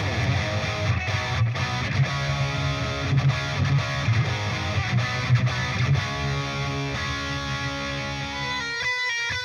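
Distorted electric guitar runs through a Line 6 HX Stomp rock preset, with thick, saturated chords and riffs played continuously and loud, closing on a few cleaner picked notes.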